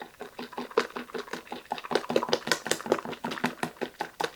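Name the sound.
whisking cake batter by hand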